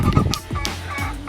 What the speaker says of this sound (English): Oh my god, oh, these ridiculous chickens.